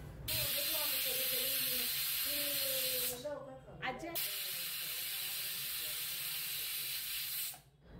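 A pressure cooker of chickpeas on a gas stove lets out a loud, steady hiss of steam with a wavering whistling tone. It breaks off briefly partway through, then hisses on before cutting out near the end.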